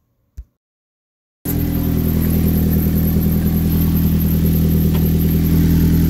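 A 2003 Nissan Altima 2.5-liter with an exhaust leak at the flex pipe starts after a short knock and a pause, then idles with a loud, steady, close-up rumble and chuffing puffs from the leak.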